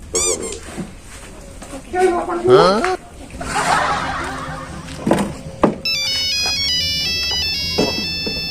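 A telephone ringtone plays a bright repeating electronic melody near the end, following lively talk, laughter and a brief dog-like bark in a Javanese comedy sketch.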